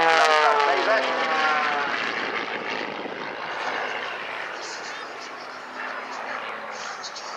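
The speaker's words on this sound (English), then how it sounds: "Cutting-edge technology, this aircraft, entirely carbon fiber, has got a spring steel undercarriage." XtremeAir XA41 all-carbon-fibre aerobatic propeller plane with spring steel undercarriage flying at an air show, a loud continuous engine and prop drone that slowly fades as it passes, with a commentator talking over it.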